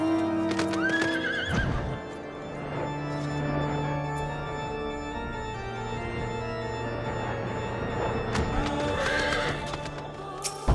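A horse neighs loudly up close in the video game Final Fantasy XIV, followed by steady clip-clopping hooves and another whinny later, with no voices.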